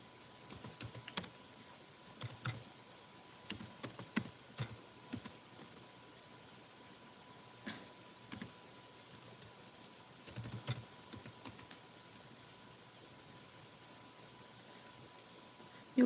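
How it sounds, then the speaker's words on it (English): Typing on a computer keyboard in irregular bursts of quick clicks separated by pauses, fairly close, over a steady low hiss with no talking. "I am typing."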